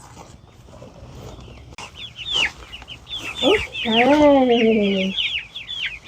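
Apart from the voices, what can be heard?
chickens clucking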